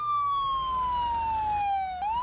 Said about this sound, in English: Then we'll hit the siren and we'll get going.